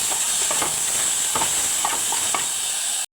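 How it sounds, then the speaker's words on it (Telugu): Onions, green chillies and ginger garlic paste fry in oil with a continuous sizzle and several sharp spatula scrapes at irregular intervals. It is close and fairly loud, with no voices, and it stops abruptly at the end. "ఇందులోనే కొద్దిగా అల్లం వెల్లుల్లి పేస్ట్, ఇది పచ్చివాసన పోయే వరకు వేయించుకోవాలి."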